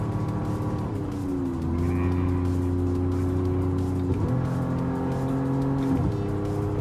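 A Toyota Alphard's engine drones loudly and steadily from inside the vehicle while driving, its pitch climbing through each gear and dropping sharply at two shifts before rising again.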